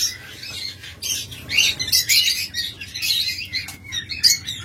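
Pairs of blue mask lovebirds chirping: a busy run of high, rapid tweets and chatter from several birds close by, over a low hum, with no talk.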